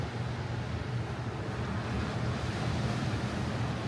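Ocean waves at Daytona Beach, a continuous roaring surf wash with steady low rumble and wind noise, no voices.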